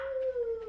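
A dog howls outside on a cold, frozen winter night, one sustained mournful tone that sags slightly in pitch, loud and close, with no other sound.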